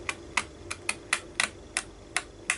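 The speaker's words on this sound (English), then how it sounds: "I've just got these little zigzaggy scissors, and all I'm going to do is just cut just a small" Small zigzag-edged scissors snipping paper around homemade faux stamps, about ten crisp close clicks in a quick, uneven rhythm with no talking.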